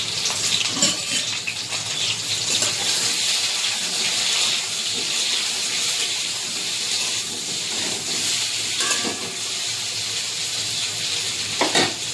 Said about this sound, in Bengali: কেটে ধুয়ে সিদ্ধ করে রেখেছি ঘাটি কচুটা ভেজে নেব তেলে